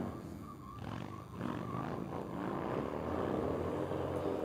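A DrifterCross motorcycle at Willow Springs International Raceway drones and roars as the rider works on and off the throttle through a sweeping left-hander, the engine note swelling steadily louder with no voices.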